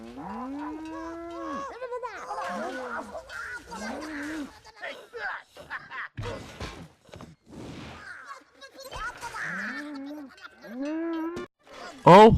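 Cartoonish cow moos repeat through the Rabbids Go Home video game, a string of long, loud lowing calls with short pauses and scattered game effects between them, no talk over it.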